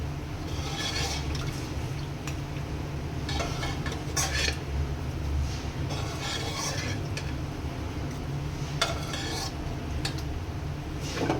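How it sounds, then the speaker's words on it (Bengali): Mutton and onions frying in a pot while being stirred, a constant low sizzle under repeated metal spoon scrapes and knocks against the pot, close by with no talking. "এই মাংসটা দিয়ে পেঁয়াজগুলো ভালো করে কষিয়ে নিতে হবে"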